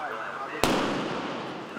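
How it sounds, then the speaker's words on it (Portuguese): A controlled detonation of an explosive device goes off as one sharp, loud blast that follows a low background murmur, and its rumbling boom decays slowly over the next second. "Nós vamos aguardar aqui um momento até a bomba seja explodida"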